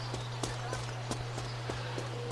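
Horses clip-clopping in the online role-playing game Runes of Magic, a quick irregular series of hoof clops over a constant low hum.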